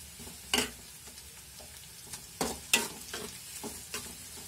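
Cinnamon and cloves fry quietly in hot oil in a pan with a soft, close sizzle. A few sharp scrapes and clinks from a spoon stirring the spices break through at irregular moments.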